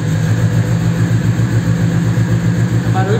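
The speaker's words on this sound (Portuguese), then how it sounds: "Barulho de carro brabo mesmo" A turbocharged VW Gol with a crossflow head runs on a dynamometer, a loud, steady, pulsing engine drone held at constant speed close to the microphone.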